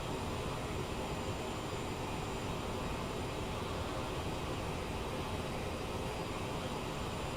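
Steady broadband cabin roar of a SkyWest airliner cruising at Mach 0.74 in Microsoft Flight Simulator, a constant even engine and airflow noise with no talk.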